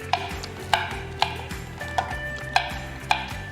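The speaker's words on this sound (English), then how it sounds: "I am chopping because I don't really want to put it in a food processor, because I want some little integrity with the nuts" A knife rough-chops pecans on a cutting board for banana nut bread, about six sharp, evenly spaced strikes under background music.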